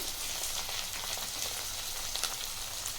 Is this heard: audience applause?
no